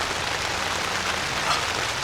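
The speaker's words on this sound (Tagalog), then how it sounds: "Umuulan ngayon" Rain falling at a moto camping site in Bulacan, a steady, even patter of drops on surfaces filling the whole stretch with continuous hiss and no voices.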